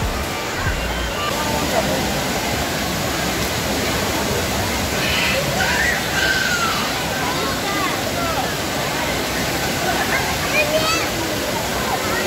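Taytay Falls in Laguna pours with a strong flow, a steady, loud, full roar of rushing water that continues without a break throughout.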